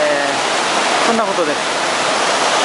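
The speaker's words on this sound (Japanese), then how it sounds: "大きな滝ですけど、もっと近づいてみたいなっていう、そういう滝です" A large waterfall, the Yaken waterfall, roaring as a steady broad rush of falling water, with a short spoken phrase over it.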